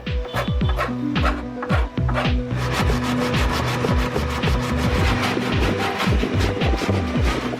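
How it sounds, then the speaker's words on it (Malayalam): A hand file worked across the edge of a wooden tower-speaker enclosure panel, making rapid, rhythmic close rasping strokes that continue steadily without pause. "ഈ ഒരു ഭാഗം ഇതുപോലെ ഫയൽ വെച്ചൊന്ന് കട്ട് ചെയ്ത് കൊടുക്കണം"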